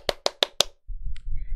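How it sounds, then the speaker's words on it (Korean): Four sharp, evenly spaced claps ring out close and loud in a quiet room, followed by a low rumble of room noise and a faint high tone. "박수"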